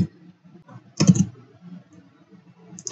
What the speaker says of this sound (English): I can type the title into here.